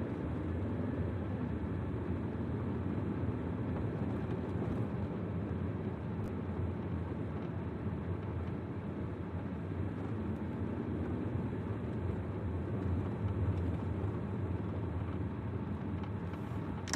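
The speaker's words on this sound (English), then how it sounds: "Some more driving on snow." All-wheel-drive car with an on-demand 4WD system driving over snow, a steady, dense rumble of engine and tyres that holds at an even, fairly loud level throughout with no talk.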